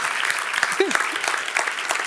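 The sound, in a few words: audience applause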